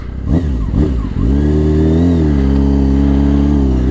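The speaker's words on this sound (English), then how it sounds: "You gotta love an inline 4 motorcycle." Inline-four engine of a 2006 Honda CBR600F4i sportbike with a Kaufman Shorty exhaust, heard loud and close. It blips sharply twice, then climbs into a steady high rev and holds there.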